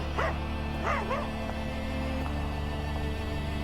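A dog barks in an anime: a few short, sharp yips come close together near the start, then fade into a quieter stretch over a steady low background hum.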